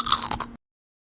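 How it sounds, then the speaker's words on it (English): A single crisp bite into crunchy chips, up close, with a couple of sharp crackling crunches over about half a second before abrupt silence. "Chips are crunchy."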